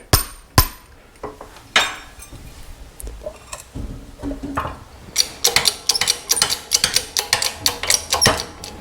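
Sharp metallic knocks and clinks as a second wheel bearing is fitted into a Yamaha ATV hub, starting with a few spaced strikes and then a rapid run of close, ringing taps.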